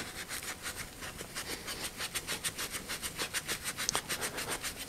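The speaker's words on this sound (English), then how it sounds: "So I didn't hit this with the wire brush first, which means I gotta rub it more with steel wool." Steel wool is rubbed back and forth over a part of a Giant Boulder SE bike under reconditioning. The strokes form a steady, close, rhythmic scratchy swish that speeds up and grows more even as the rubbing goes on.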